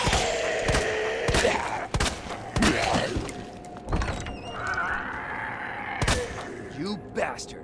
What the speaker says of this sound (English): I'm going to stun this first zombie, the handgun, and then blast him with the shotgun